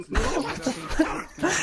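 Close, rough throat clearing and short coughs from one person in VRChat voice chat, coming in three or four harsh bursts over a second and a half.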